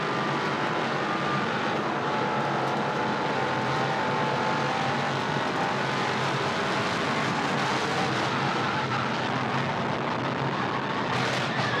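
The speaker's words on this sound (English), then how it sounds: "listen to the throttle control from Gus Dean." Gus Dean's race car at Iowa Speedway under caution in a 2018 ARCA race, its engine droning steadily at a distance with the throttle worked on and off, set against a constant wash of crowd and track noise.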